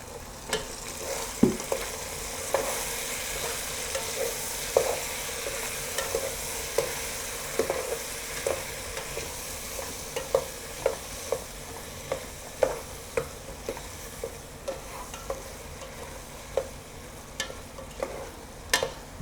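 Seared pork belly sizzles in a pan after salsa rojo is added, giving a continuous frying hiss broken by repeated sharp utensil clacks and scrapes as it is stirred, with no speech.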